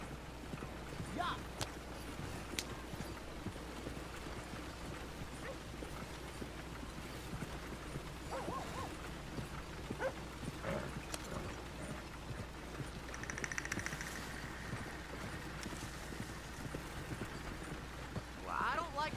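Horse hooves clip-clop at a steady walking rhythm in Red Dead Redemption 2, faint and continuous over low ambient game sound, with someone talking intermittently.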